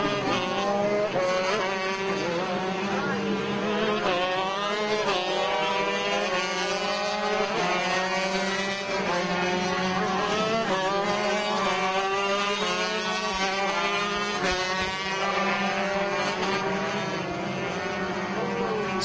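Shifter and DD2 Masters racing karts on a sprint track, engines droning and rising in pitch as they pass through gears, a continuous layered whine from several karts at middle distance, with no voices.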